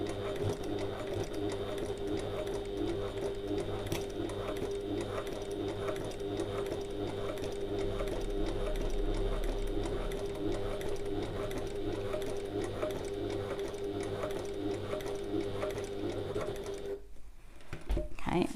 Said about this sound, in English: Just take your time sewing this.